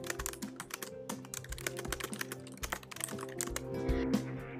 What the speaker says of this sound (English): I start to type my message